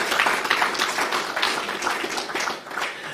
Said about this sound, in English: I think this is worth an applause.